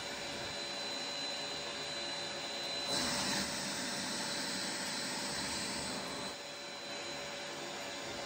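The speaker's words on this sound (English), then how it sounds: "On my VAC, the harsh high-pitched noise is mostly generated at the exhaust port." A workshop shop vacuum runs steadily with a hose fitted to its exhaust port, a continuous close, even whooshing roar that swells slightly partway through and then settles a little lower.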